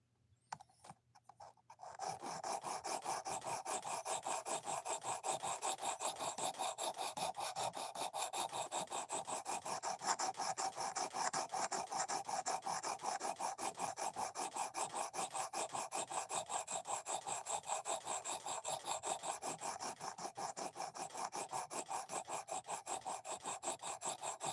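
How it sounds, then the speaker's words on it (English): A knife edge is drawn over a sharpening stone in steady, rapid rasping strokes that run continuously at an even loudness from near the start, close up and with no voices. "The edge I'm sharpening is slightly different from the last one."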